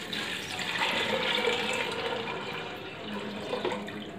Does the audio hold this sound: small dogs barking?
no